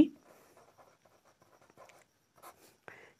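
Chalk or a marker writes on a board during a Class 10 science lesson. Light, sparse scratches and taps come in short strokes, fairly faint, with no talking.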